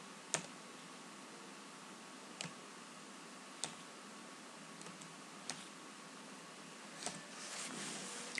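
Someone enters a serial number on a computer keyboard, producing sparse, faint key clicks spaced a second or two apart over a quiet hiss, with a brief flurry of soft rustling near the end.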